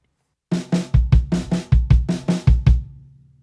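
Drum kit playing a linear groove in groupings of four at a fusion and funk drum clinic: about a dozen punchy hits alternating low kick and snare-like strokes in a steady rhythm, close and loud, ringing out at the end with no talk.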